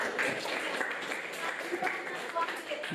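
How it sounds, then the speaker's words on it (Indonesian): Students in a classroom clap together in a brief, dense patter, with voices mixed in throughout. "Betul, tepuk tangan dulu dong."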